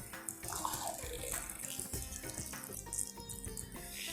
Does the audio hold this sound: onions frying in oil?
no